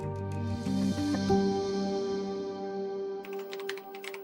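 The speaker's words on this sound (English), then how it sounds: "Roberto sat at his computer typing up a restaurant review" A brief run of quick computer keyboard keystrokes clicks at the end, after a sustained musical drone that fills most of the moment.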